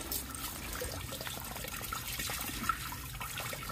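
Water drains from a radiator during a central heating powerflush, a steady close trickle and splash that runs continuously with no pauses.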